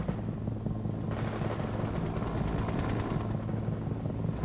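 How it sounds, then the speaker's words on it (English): Helicopter rotors in the World in Conflict strategy game, airlifting vehicles, drone steadily and loudly through the clip amid rapid gunfire bursts and battle noise. "I am airlifting some vehicle support to you"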